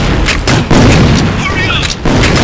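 Repeated explosive booms and gunshots from a video game firefight with grenades, loud and close in several bursts, while voices shout over the blasts.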